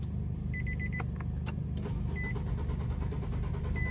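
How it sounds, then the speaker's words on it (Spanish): A 2018 Nissan Sentra with about 35,000 miles, with an ignition coil giving no spark, cranks without starting: the starter whirs in a steady rhythmic churn while high clicks and chirps from the electrics come and go. "Voy a dar otra marcha para que escuchen cómo está el carro."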